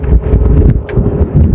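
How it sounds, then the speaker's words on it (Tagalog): Strong wind buffets the microphone outdoors in Pangasinan, a steady low rumble with fluctuating gusts throughout, alone with no voices. "Malakas ang hangin ha."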